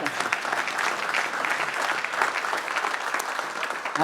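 Steady applause from an audience at a company year-end meeting, clapping in appreciation of a colleague's leadership in finance; dense, continuous clapping throughout with no voices on top.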